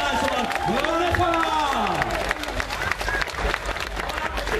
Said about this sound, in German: Und vom Publikum einen tollen Applaus für die sensationelle Leistung.